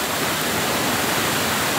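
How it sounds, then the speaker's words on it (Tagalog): A flooded river rushes powerfully in a loud, unbroken roar of churning water, close by and filling the whole short stretch with no voices. "Ang lakas na guys ang ilog dito guys."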